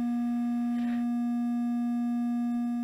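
A MOS 6581 SID chip driven by an ESP32 sounds a loud, steady buzzy synthesizer tone with bright harmonics that holds unbroken throughout, with a brief soft noise burst near the start.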